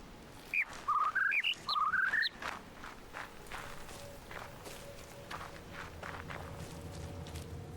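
A burst of clear, whistling bird chirps from The Witness opens the moment, a rapid string of pitched tweets that stops abruptly and leaves a quiet ambient bed with soft footsteps.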